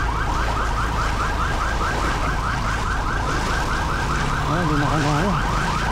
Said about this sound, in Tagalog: Ito, may ambulansya. Padawin muna natin.